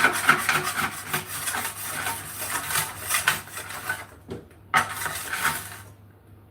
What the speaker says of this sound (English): if you got a spatula, don't do all that wiping. Scrape first, then wipe.